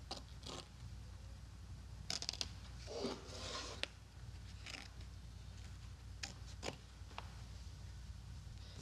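Scissors snip through the last piece of quilting fabric in a few short, crisp bursts over a quiet background, close and fairly faint, with no talking.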